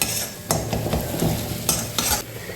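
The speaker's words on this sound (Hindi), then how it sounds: "मसाले को लगातार चलाते हुए अच्छे से भूनेंगे।" Spices for a green peas tarka, with dried fenugreek leaves added, are stirred and fried in hot oil in a pan, giving a steady sizzle broken by several scraping stirs of a spoon, close and fairly loud, with no talking.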